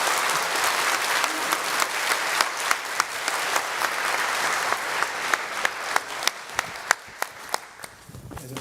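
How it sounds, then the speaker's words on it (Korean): A church congregation at a Korean Presbyterian Sunday service claps together in sustained, dense applause, loud and close, with a few sharper individual claps standing out near the end as it thins. "우리 곽욱 목사님께 한번 감사의 박수 드리겠습니다"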